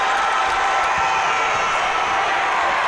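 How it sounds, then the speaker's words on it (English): A basketball crowd at a college game between Missouri Valley College and Freed-Hardeman erupts after a blocked shot, a continuous broad roar of cheering filling the arena at steady loudness. "And the crowd goes crazy."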